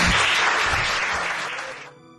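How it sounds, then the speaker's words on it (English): Applause for Mary Cross, a vivacious guest introduced on a lighthearted interview show, loud and dense from the start, thinning slightly before cutting off sharply after about two seconds. "Give her a round of applause"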